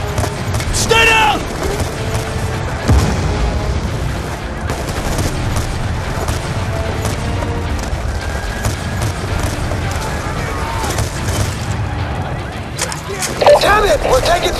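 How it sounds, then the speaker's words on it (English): Sniper and small-arms gunfire in a Black Ops 2 campaign battle on a highway overpass, sharp reports and bursts scattered through a dense, loud combat mix with shouting voices over it. "We're taking fire from high! They got fucking snipers on the overpass!"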